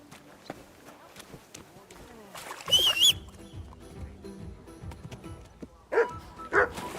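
A dog barks in a few sharp bursts amid scuffling and footsteps, close by, with a person talking in between.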